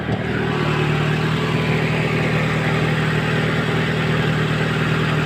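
A 1995 Toyota Corolla engine idles steadily with a constant low hum and even mechanical drone, close and loud, with no voices.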